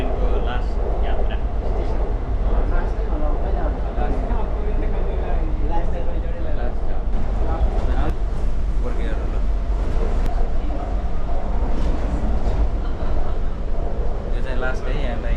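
Steady, loud rumbling and rushing of a train ride in Korea, a continuous roar that stays even throughout, with faint rattles and clicks.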